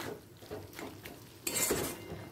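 Spoon scraping and stirring onion poppy seed paste in a pan over a medium-high gas flame, soft clinks and scrapes with a brief louder sizzling burst near the end.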